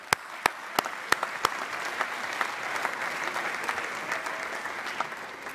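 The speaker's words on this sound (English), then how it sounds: "please give a wonderful staff a great round of applause tonight" Applause from an audience at a university athletics academic awards ceremony, starting with a few sharp separate claps that quickly swell into steady, dense clapping from a large crowd, sustained throughout.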